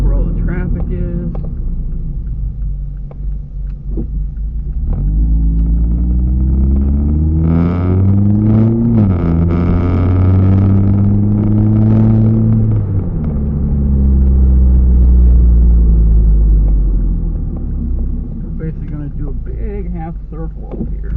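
Mazda Miata engine revving while driving off a main road, a strong steady rumble that climbs in pitch through a long rev, drops, then swells again, loud and close throughout.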